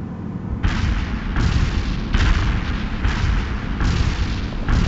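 Incoming artillery fire in World in Conflict: Soviet Assault, a steady run of heavy booming blasts, five or six evenly spaced bursts with crackling tails over a constant low rumble, loud and close.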